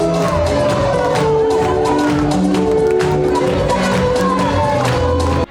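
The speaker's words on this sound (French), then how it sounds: "reçu par un concert d'acclamations et de cris de joie" A dense crowd cheers and shouts with joy at the official launch of the political movement Rassemblement des Bâtisseurs, greeting its founding president with loud, continuous acclaim and scattered whoops that cut off abruptly.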